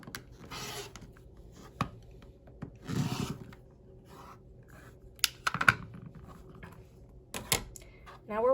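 Rotary cutter or scissors trimming fabric for an orange peel quilt block unit give scattered soft scrapes, rubs and small clicks, close and irregular, with faint handling noise between them.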